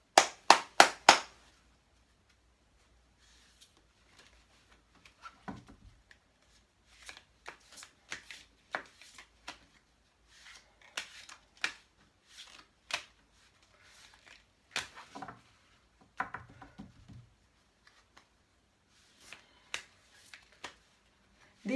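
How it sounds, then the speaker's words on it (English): Chakra oracle cards shuffled and drawn by hand, a few sharp riffling bursts at the start, then scattered soft slaps, slides and flicks of cards spread through a quiet room, close and alone. "I'm going to draw two cards from this, one for divine masculine and one for divine feminine"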